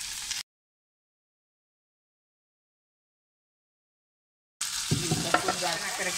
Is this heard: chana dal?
yes